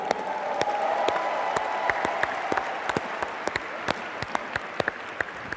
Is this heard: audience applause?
yes